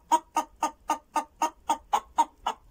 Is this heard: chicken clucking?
yes